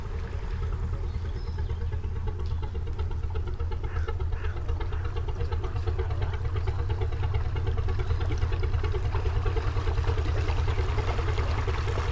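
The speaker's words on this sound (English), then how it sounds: "engine pop, pop, pop, popping away on the Gardner engine thing" A Gardner diesel engine on a narrowboat chugs steadily and low at an even pace, its rapid rhythmic popping continuing without a break. No voices are heard.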